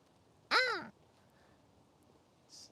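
A single crow in Tokyo gives one harsh, drawn-out caw, loud and fairly close, followed by quiet outdoor ambience and a brief faint higher chirp near the end.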